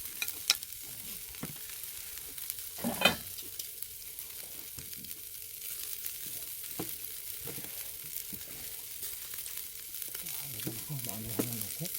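Garlic frying over a campfire grill at a rural family's front-yard barbecue, giving a steady low sizzle with occasional stirring clatter and scraping.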